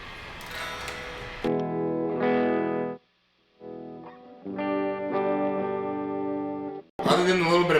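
Electric guitar played through a JHS Angry Charlie overdrive pedal rings out in driven chords and sustained notes, pausing briefly in silence before resuming, with a voice heard at the start and end.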